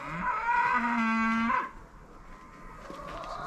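A cow on a farm lets out a single loud, drawn-out moo lasting about a second, then trails off into quiet outdoor ambience.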